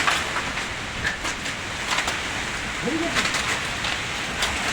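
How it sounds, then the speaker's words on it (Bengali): Heavy rain pours down in a dense, loud, continuous patter, with sharper drop impacts scattered across it and a brief faint tonal call near the middle. "অনেক বৃষ্টি"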